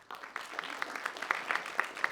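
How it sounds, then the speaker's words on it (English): A small lecture class claps briefly for three students, a soft, sparse patter of individual claps that stays faint and close throughout. "And a very big round of applause for Jen, Luke, and Sarah as well"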